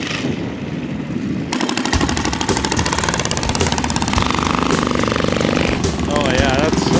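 A 420cc Rupp minibike engine with a new 780 torque converter runs close by, its rough, loud revving buzz rising and settling over several seconds, with people talking over it.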